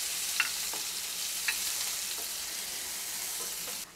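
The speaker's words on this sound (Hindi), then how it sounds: "अब इसमें हम अनियन ऐड कर देंगे और अनियन को हल्का भूरा होने तक फ्राई करेंगे।" Onions frying with cumin in a pan for urad dal, a steady close hiss of sizzling oil with a few soft stirring scrapes, no voices.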